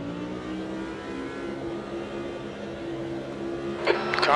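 Super Trofeo race cars at Interlagos in a racing video game hum through mid-range engine tones at a steady pitch, with a brief rise in revs near the end.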